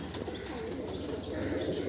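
A Pakistani teddy pigeon coos softly in a loft, a low murmuring burble close by over a steady background hiss.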